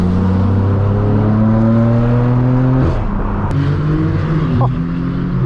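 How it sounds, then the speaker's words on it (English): Loud engine of a blue Porsche 911 Turbo S supercar, its harmonic drone gliding downward as it drives past close by, with a brief whoosh and shift midway and steady roar continuing after. "Oh, listen to that turbo."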